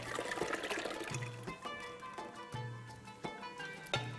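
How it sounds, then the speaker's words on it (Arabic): Local sheep yogurt poured into a cooking pot for Jordanian mansaf, heard as a close, wet, gurgling pour with small splashes and occasional light knocks against the pot, no talk. "بدنا نضيف له رايب الغنم البلدي"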